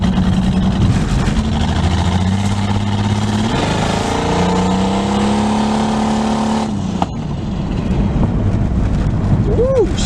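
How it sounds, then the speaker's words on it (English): Turbocharged Ford Falcon engine on a road test, running steadily with a rising and falling drone as it pulls through gears, loud and continuous with a brief dip near the end. "So I'm going to take it for a quick run and see how she goes."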